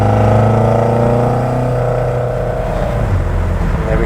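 Mk1 Ford Escort engine pulling hard as the car accelerates up to speed, a loud steady rising drone with harmonics climbing and then settling into a cruising roar with road noise.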